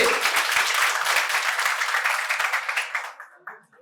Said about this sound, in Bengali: ওর জন্য একবার জোরে হাততালি